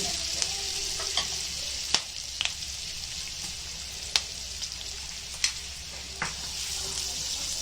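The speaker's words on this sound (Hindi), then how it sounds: "अब ये पूरे मसाले डालेंगे, अच्छे से उसको भूनेंगे।" Spices and garlic sizzle steadily in a hot pan as masala is fried for a baingan vada filling, with periodic clinks and scrapes of a stirring spoon over the constant crackle.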